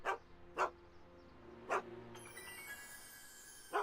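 Einstein the dog barks in the video game Back to the Future: four short, sharp barks spaced irregularly, fairly close, with a faint electronic tone rising in the background.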